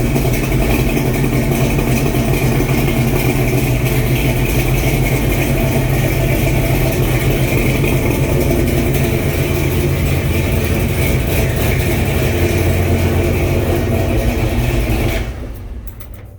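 A 1966 Chevy K10 truck with a 454 engine idling, a loud, steady, deep rumble held close for the whole stretch before it cuts off abruptly near the end.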